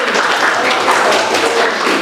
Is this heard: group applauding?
yes